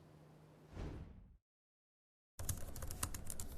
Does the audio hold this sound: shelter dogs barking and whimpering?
no